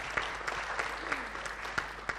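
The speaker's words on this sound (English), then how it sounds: "A round of applause." Light, scattered clapping from a small group, fairly quiet, with a few sharper claps standing out.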